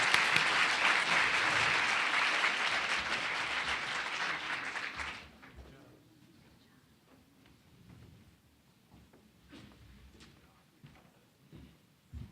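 An audience claps loudly to thank a conference panel for five seconds, then the applause drops away abruptly, leaving scattered faint claps and room noise.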